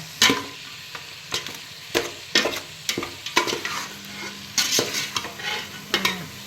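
Chopped tomatoes sautéing and being stirred in a pan for tomato rice, with repeated scraping stirs and soft sizzling in short bursts over a quiet kitchen background.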